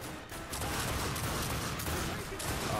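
Gunfire in the video game The Darkness 2, a continuous loud barrage of shots and chaotic combat noise with a few sharper cracks standing out through the short stretch.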